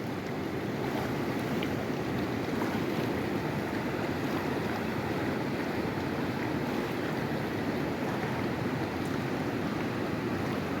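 Waves on the Tos river rush and churn in a continuous, loud broadband wash, with no voices heard over the water.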